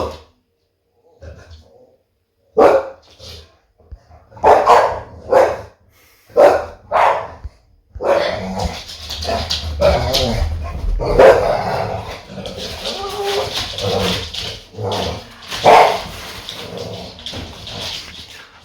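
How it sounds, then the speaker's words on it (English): Dogs in a home bark in loud, close bursts, several sharp barks with short pauses, then a longer stretch of barking and yips mixed with background noise. "Sorry, those were my dogs."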